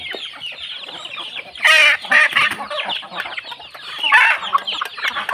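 Chickens, Burmese fighting gamefowl being fed paddy rice, clucking and squawking close by, with a couple of louder, harsh bursts standing out among the busy chatter.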